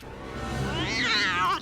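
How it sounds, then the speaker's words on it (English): A cartoon cat in an animated film gives a single drawn-out meow that rises and wavers in pitch, loud and close, with nothing else heard. "get used to that same cat soundbite as well"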